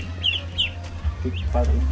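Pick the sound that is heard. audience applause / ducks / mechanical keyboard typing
ducks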